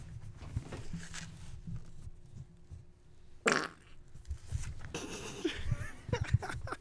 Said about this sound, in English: why are farts funny?